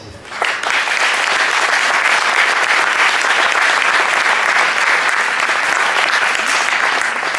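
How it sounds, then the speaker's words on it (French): A crowd at a tournament gathering in Paris applauds the steering committee members, with loud, dense and sustained clapping that starts abruptly and continues evenly throughout. "Ce sont évidemment les membres du comité directeur que je vais vous demander d'applaudir très très fort"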